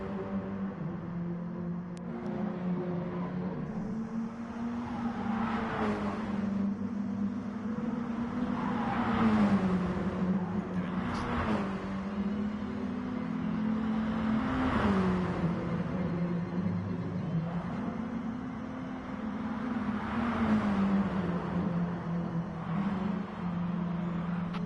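Mini Cooper Cup race cars pull out of the pits at Kyoto Miyabi Circuit, a steady droning engine note under several swelling whooshes as cars pass by, moderately loud with no voices.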